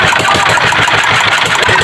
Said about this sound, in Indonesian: Jadi kami mau engkol mesin lagi.